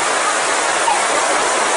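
Floodwater rushes in a steady, dense broadband roar where children wade, a continuous close wash of churning water with no break or voice over it.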